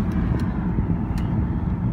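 A 2008 BMW 328i convertible's inline-six engine accelerating, giving a steady low rumble and drone from inside the car with road noise mixed in.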